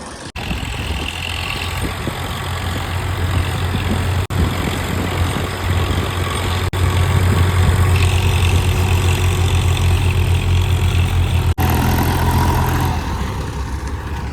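A tractor engine idles steadily and loudly nearby, a constant low rumble with a faint high whine, never changing pace.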